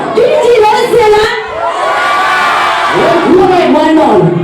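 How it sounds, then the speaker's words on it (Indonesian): At a club DJ show, a loud crowd cheers and shouts together in sustained bursts of many voices, rising and falling close by. "Kok semuanya sama teriakannya? Coba sekali lagi."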